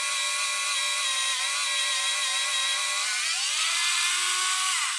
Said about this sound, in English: Just push the drill in, and you can see the swarf starting to come out.